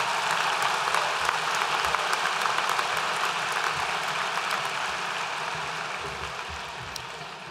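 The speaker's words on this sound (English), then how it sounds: "let's give one more round of applause for all of your parents and guardians." A crowd at a graduation ceremony applauding steadily, a dense wash of many hands clapping that holds throughout and tapers slightly toward the end.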